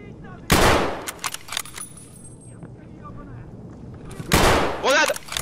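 Gunfire in the shooter game Escape From Tarkov, with two loud bursts of rapid shots separated by a quieter stretch of clicks and rustles; a voice briefly mixes in near the end.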